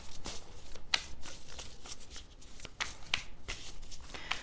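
Tarot cards riffle and snap in quick repeated bursts, a close, crisp papery shuffling that repeats several times.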